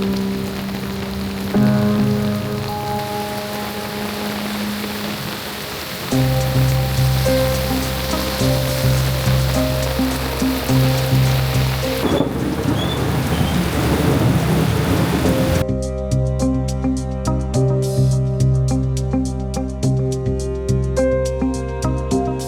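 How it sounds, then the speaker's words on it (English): Heavy rain pours steadily during a thunderstorm in Jakarta, with rolling thunder rumbling underneath. The downpour stays loud and dense throughout, shifting in texture partway through, with no voices. "it's gonna be a big storm very soon"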